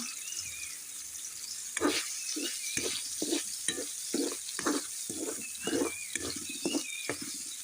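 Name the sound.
sausages frying in coconut oil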